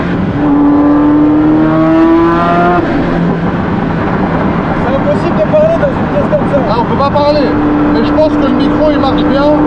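A loud, steady Ferrari F40 engine drone fills the cabin through plexiglass windows, with tones climbing as the revs rise, while people talk over it.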